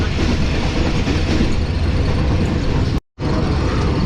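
A Subak Raftar railcar runs along the line toward Lahore past Gujranwala Cantt without stopping, its wheels and body producing a loud, steady rumbling roar on the rails, broken by one abrupt momentary dropout near the end.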